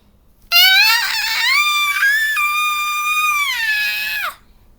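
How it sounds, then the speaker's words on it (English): A high, sustained cartoonish scream from characters in an Angry Birds audio story floating into outer space rises sharply, holds loud and wavering for nearly four seconds, then cuts off. "they all screamed as they floated further into outer space"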